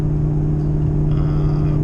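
Car cruising north on a New Zealand expressway with a trailer hitched behind, giving a steady, loud engine and road drone with a constant low hum throughout, no talk.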